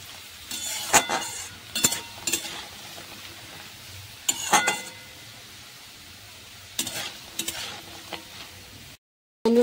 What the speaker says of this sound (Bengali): বন্ধুরা এই যে পাঁপড় ভাজা হচ্ছে